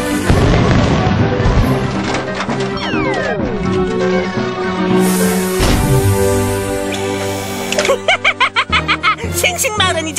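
Cartoon firecrackers go off in a rapid burst of pops and booms, followed by whistling and rising whooshes, then a quick crackling string of small explosions near the end.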